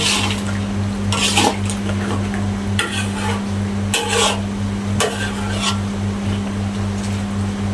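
Chicken cooking with lemongrass in a pan, a steady sizzle with a low hum under it and several louder bursts of stirring and scraping.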